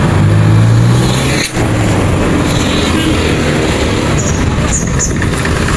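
A jeep rolls past near a market in Tanawan, a loud engine rumble close by amid street bustle, with a sharp break partway through and scattered brighter noises later.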